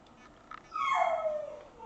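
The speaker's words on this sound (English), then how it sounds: "there's a howl for you." A puppy dog lets out a single rising-then-falling whining howl that lasts about a second, fairly close, after a couple of faint yips in a quiet room.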